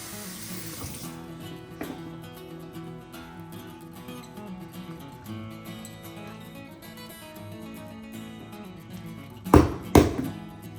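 Water running from a tap while ginger is rinsed for chicken curry, a steady faint stream with soft clatter, then a couple of sharp knocks near the end.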